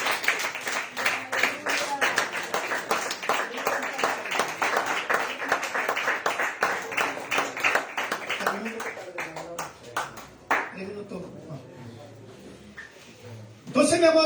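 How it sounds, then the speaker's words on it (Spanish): A church congregation applauding during a sermon, brisk crowded clapping for about ten seconds that thins out and stops, followed by quieter room noise and a brief voice at the end. "Den aplausos al Señor."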